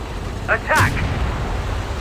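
A single tank cannon shot from the FV201 heavy tank in the game Tank Company, a short loud blast with a brief rumbling tail fading quickly, alone with no talk.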